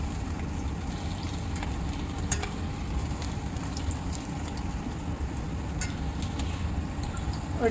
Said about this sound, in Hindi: डीप फ्राई होचे हो ना कि